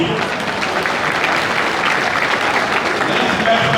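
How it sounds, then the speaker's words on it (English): A large crowd applauds steadily and loudly at a political party manifesto launch, a dense wash of clapping and cheering held evenly throughout. "A round of applause for him."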